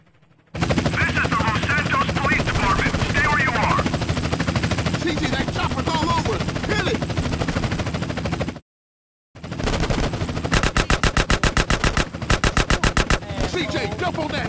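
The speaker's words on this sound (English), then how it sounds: "This is Buzzard 1. We are taking ground fire." In GTA San Andreas, a helicopter thrums under loud, sustained rapid gunfire with heavy bursts, broken by a brief silence near the middle before the shooting resumes in sharp volleys.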